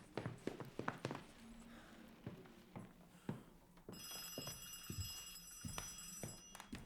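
An old-style telephone bell rings in bursts partway through a horror video game, accompanied by scattered knocks and footstep-like thuds; quiet overall.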